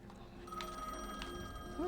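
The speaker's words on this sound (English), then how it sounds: "Oh, the phone's ringing." A telephone ringing in a horror video game, with a repeated bell-like ring sounding twice at a steady interval at moderate volume over quiet ambience, followed by a brief tonal chirp at the end.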